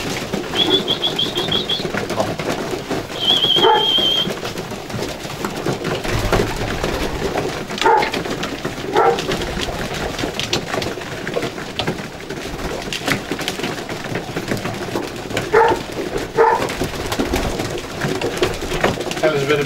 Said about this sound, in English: She's a Sioux pigeon.